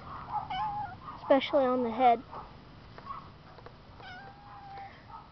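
A cat meowing outdoors in a neighborhood, a few drawn-out wavering meows in the middle and a fainter one later, heard under a person talking.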